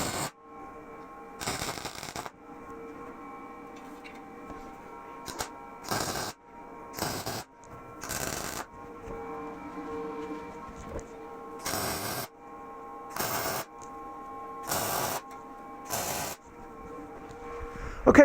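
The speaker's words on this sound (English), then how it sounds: "now I'm going to go through with the MIG welder and I'm going to weld the letters to this 1/2 inch tube" MIG welder joining steel letters to 1/2 inch square steel tube, short crackling buzzing bursts repeated at irregular intervals over a low steady hum, close and moderately loud.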